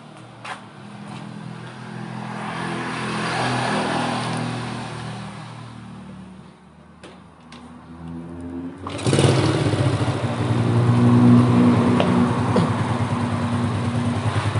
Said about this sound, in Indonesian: bisa kalian dengar sendiri ya, suara mesinnya halus